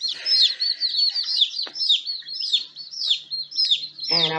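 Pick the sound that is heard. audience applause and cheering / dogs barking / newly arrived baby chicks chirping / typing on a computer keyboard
newly arrived baby chicks chirping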